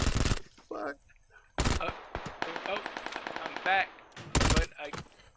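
PUBG video game gunfire, with loud sharp bursts of shots and a rapid automatic volley in the middle, mixed with brief excited voices of players talking.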